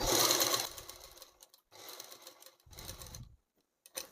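Sewing machine stitching back-piece lining fabric runs in short bursts of rapid needle clatter separated by brief pauses, close and fairly quiet, with no talking.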